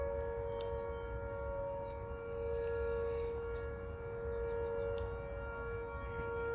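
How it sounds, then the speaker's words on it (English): A long, steady civil-defense-style siren drones from the Siren Head monster in a video game, a faint sustained tone holding evenly for several seconds over a low background rumble with no talking. "Siren Head is super loud in real life"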